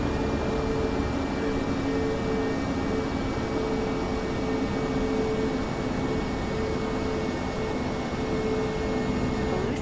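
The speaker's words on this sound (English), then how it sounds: "runway 23 left, winds 305 at 5, cleared for takeoff" An airliner's engines roar steadily during takeoff in Microsoft Flight Simulator, a loud, even, sustained rumble with faint tonal whine throughout and no talking.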